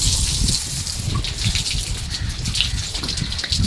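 Water gushing and splashing steadily while a cow is bathed, a continuous close pour with trickling and dribbling over the animal, with no voices.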